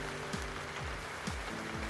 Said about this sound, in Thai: ปอกแป๊กปอกแป๊กลงมาเยอ่ ฝนตก